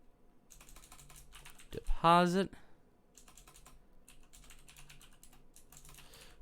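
Rapid clicks from a computer keyboard carry on in short bursts through the clip, close and moderately quiet, with one spoken word cutting in briefly.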